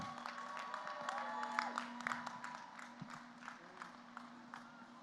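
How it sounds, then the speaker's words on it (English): Graduation audience at a high school ceremony applauding the seniors, a steady wash of clapping and some cheers, moderately faint and distant, mixed with a sustained tone. "Let's give all these remarkable seniors a round of applause for a job well done"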